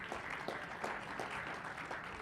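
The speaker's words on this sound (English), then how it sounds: "Let's give them a big round of applause." A big round of applause for the judges at an auction ringman competition and showcase, a soft, continuous wash of many hands clapping heard from a distance, even and sustained.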